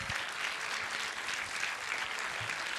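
Steady, sustained audience applause for an orchestra of violin, guitar, keyboard and mridangam players at a music concert, dense clapping throughout without pause.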